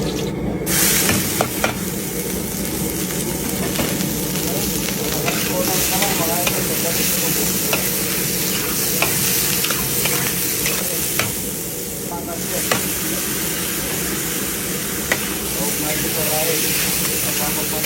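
Food sizzles steadily in a hot pan while being stir-fried, a dense continuous hiss with scraping stirs, heard close and loud under intermittent conversation.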